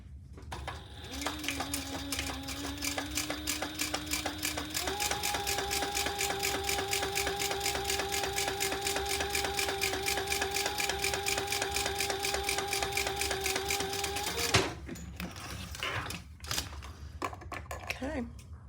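A sewing machine top stitches a Pebble Mini Sling bag at 1/8 inch, running in a fast, even rapid stitching rhythm for about thirteen seconds before stopping, followed by a few light clicks and handling noises.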